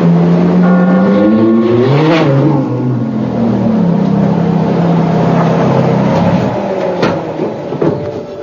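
A 490-horsepower Ferrari F430 engine accelerates hard, its loud rising howl climbing through the revs, dropping briefly at a gear change, then holding a strong, steady roar.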